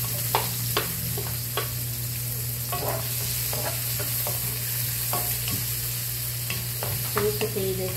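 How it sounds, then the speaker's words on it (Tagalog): Onion and garlic sauté in hot oil as the base for jackfruit in coconut milk: a steady, close sizzle runs throughout, punctuated by scattered clicks and scrapes of a stirring utensil. No one speaks. "So, add some more oil and we will fry naman the onion and the garlic."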